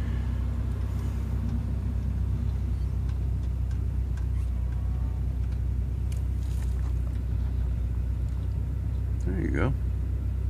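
Off-road vehicle at the King of the Hammers 2014 event crawling over rough terrain, a steady loud engine rumble with knocks and jolts from the chassis, while people talk over it.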